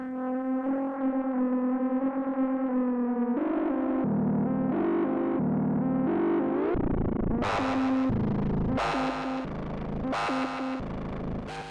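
A distorted, effected synth tone through a delay plugin with LFO modulation and fully wet mix, its pitch and texture warbling and shifting under a wobbling delay, then breaking into sharp, gritty repeated bursts.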